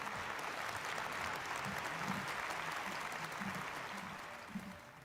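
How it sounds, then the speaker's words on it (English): A large audience applauds warmly at the 2022 Sunhak Peace Prize award ceremony as the founders' family and laureates are welcomed, dense steady clapping throughout that tapers slightly toward the end. "Please welcome them with a big round of applause."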